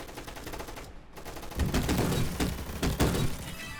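Rapid gunfire from the online shooter Gunfight Arena, a fast burst of overlapping shots with heavier thumping bursts near the middle and end, loud and close throughout.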